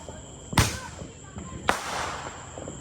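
Fourth of July fireworks go off outdoors in two sharp, booming bangs about a second apart, each trailing into a crackling rumble. Faint voices can be heard in the background.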